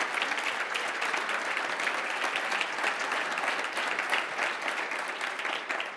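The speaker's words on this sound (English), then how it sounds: "Helmut, stand up and have another round of applause." A crowd claps steadily for several seconds, a dense, even wash of applause without a break.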